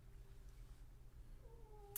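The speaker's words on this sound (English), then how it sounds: "if you heard a strange little sound, that was my little buddy, Mr. Merlin the cat" Mr. Merlin the cat sits at a window and lets out a faint, drawn-out meow in a quiet room, a thin tonal cry over low background hum.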